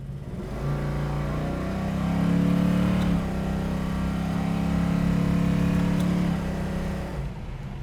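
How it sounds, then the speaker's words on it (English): A 1970 Dodge Dart engine is given a little gas and revs up from idle, its loud, steady low drone rising in pitch, holding for several seconds, then easing back down near the end. "Going to give it a little bit of gas here."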